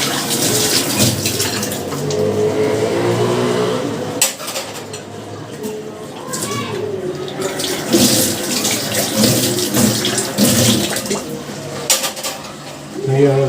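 Drinking glasses rinsed under a running kitchen tap, with water splashing and drumming into the sink, glass clinking against glass, and a brief break in the flow partway through, close and lively, with someone talking over parts of it.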